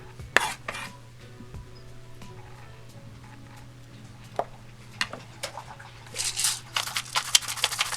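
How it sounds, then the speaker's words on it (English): A knife dices a jalapeno on a cutting board in a home kitchen while birria tacos are prepared, giving sparse, irregular close chops and taps with a denser flurry of cuts near the end over a low steady hum. "This is me dicing the fucking jalapeno up"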